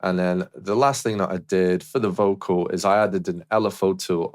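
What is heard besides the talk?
No distinct noise like a dog, phone or traffic.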